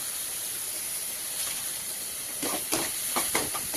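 Masala sautés in a pan with Kashmiri chilli powder, giving a steady bright hiss of frying, joined toward the end by several sharp clinks and scrapes of stirring.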